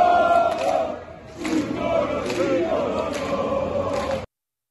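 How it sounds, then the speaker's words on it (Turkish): Samsunspor football supporters march along Çiftlik Caddesi in cold, rainy weather, a large crowd chanting in unison with rhythmic sung phrases and occasional drum thuds, loud and sustained outdoors. "Taraftarlar soğuk hava ve yağmura rağmen tezahüratlarıyla adeta Çiftlik Caddesi'ni sesleriyle inletti."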